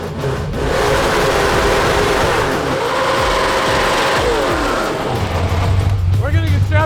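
A 1000bhp all-wheel-drive burnout car revs hard in first gear, its engine roaring loud and close with rising and falling pitch sweeps, while voices shout over it.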